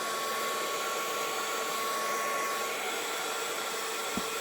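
A heat tool blasts hot air onto a handmade resin shaker dome, a steady, loud, close whooshing roar that holds constant throughout, with a faint tap near the end and no talking.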